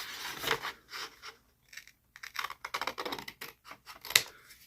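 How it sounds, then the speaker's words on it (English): Small pieces being cut for a dollhouse project, heard as quick close-up snips and rubbing scrapes in irregular bursts with short pauses, fairly quiet and with no voices. "I need to cut them up a bit smaller"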